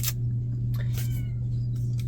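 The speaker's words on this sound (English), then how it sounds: "I think my kitty cat's trying to come in my office door." A house cat at an office door, faint and brief cat sounds over a steady low electrical hum, with no talking.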